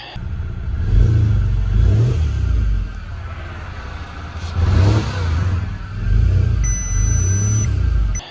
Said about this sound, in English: once I start revving it or give it a bit of a tap on the accelerator